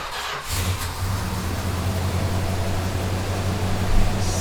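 The 6.6-liter single-exhaust V8 of a 1976 Chrysler Cordoba cranks and catches, then settles into a steady, rumbling idle close by, with a slight rise in revs near the end.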